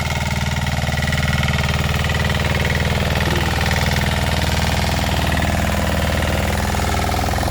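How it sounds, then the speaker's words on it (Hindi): A mini tractor power weeder engine runs loud and steady close by, a constant thumping drone with a harsh mechanical rattle throughout, and no voices. "भाइयों, ये है मिनी ट्रैक्टर,"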